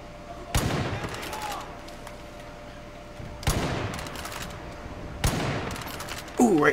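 Bolt-action rifle shots ring out in a Far Cry 5 jungle multiplayer match, three loud cracks spaced a few seconds apart with ringing tails, over quiet ambience and a brief voice at the end.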